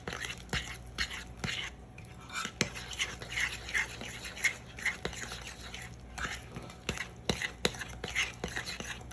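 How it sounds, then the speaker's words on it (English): A spoon scrapes and clicks rhythmically around a bowl while cornbread batter thinned with milk is stirred, close and fairly quiet, with soft irregular strokes and no talking. "And so you just begin to stir."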